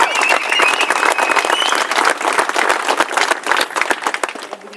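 Crowd applauding at a motorcycle rally in a town square, with dense sustained clapping from many people that stays close and loud throughout and fades slightly at the end.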